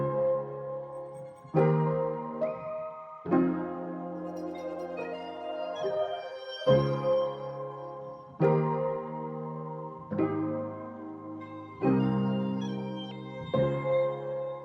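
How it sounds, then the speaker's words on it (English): Serum synth glide preset layered with a lead pattern, sustained chordal synth notes changing in a repeating sequence, with pitch slides between phrases, fairly quiet and with no voices. "And then when we layer it with that lead pattern, it sounds like this."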